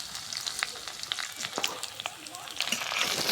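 Chopped onion, garlic and dried red chillies fry in mustard oil in a wok, a steady sizzle broken by sharp crackles and pops, with stirring scrapes scattered throughout at close range.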